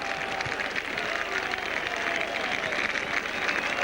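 A rugby league crowd applauds and cheers a Wakefield Trinity try against Featherstone in 1989, a dense, steady roar of clapping that holds for about four seconds.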